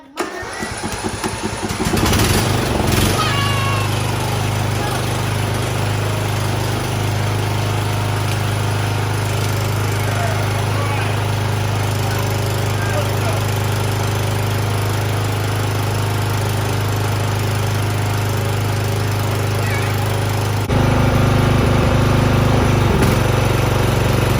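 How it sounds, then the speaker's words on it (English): A free lawn mower's small engine cranks, catches and settles into a steady, loud idle close by, running on continuously with no one speaking. "Let's see if this thing starts up."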